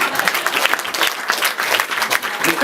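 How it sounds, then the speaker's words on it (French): Audience applause rises in a dense, continuous wash of many hands clapping at close range, with faint voices mixed into the crowd noise. "on peut applaudir quand même"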